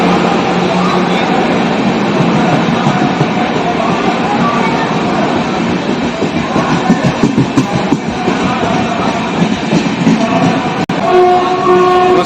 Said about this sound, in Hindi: आ गई है गोमती एक्सप्रेस इटावा के 2 नंबर प्लेटफॉर्म पे। कानपुर साइड के वैप 7 लोकोमोटिव के साथ।